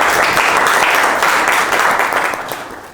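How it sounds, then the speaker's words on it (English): Loud applause from a group, dense continuous clapping that fades slightly toward the end. "Clap your hands for him."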